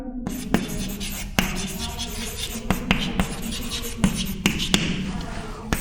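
Chalk or marker scratching across a classroom board while a perpendicular line is drawn, with sharp taps at irregular intervals and a continuous scraping stroke heard close, with a voice speaking quietly.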